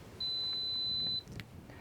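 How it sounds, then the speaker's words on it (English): A keyless door lock gives one clear electronic beep, about a second long and fairly loud, while its fingerprint reader is being programmed, followed by faint handling clicks. "Scanning your fingerprint 8 times, each time succeeded with a short beep."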